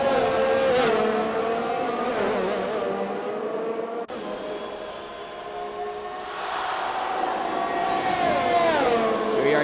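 Formula-style race cars in a realistic sim racing game screaming down the straight at the China circuit, engines loud and sustained with rising pitch as a McLaren closes on a Williams, a brief dip midway before the revs build again.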